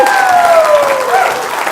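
An audience claps and cheers for a motivational speaker, a loud, dense burst of applause with a sustained tonal voice or note ringing over it.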